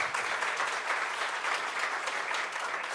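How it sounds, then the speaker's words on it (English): Audience applause at a digital health conference, a dense, even wash of clapping from a seated crowd that holds steady for the full few seconds. "You can clap for her."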